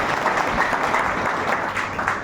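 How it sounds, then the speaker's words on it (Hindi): An audience at a Sunday business seminar claps in a dense, steady burst of applause that fills the whole moment. "हम चाहते पर ऊपर वाले के लिए एक ज़बरदस्त ताली होनी चाहिए साथियों।"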